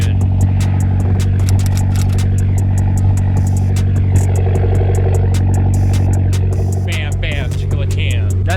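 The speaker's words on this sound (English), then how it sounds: "That new exhaust sounds really good." A car with a newly fitted exhaust idles nearby, giving a deep, steady rumble with light clatter throughout. Voices talk over it now and then.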